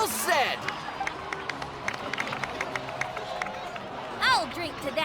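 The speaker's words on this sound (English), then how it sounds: "please give another round of applause for them." Crowd applause and cheering from a scene in the video game Genshin Impact, scattered claps and cheers under voiced dialogue, swelling briefly near the end.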